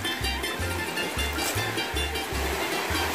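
Ocean waves breaking on a shore, heard from a bedroom by the sea on a road trip from Italy to Dubai; loud, rhythmic low surges repeating about every half second over a constant hiss of surf.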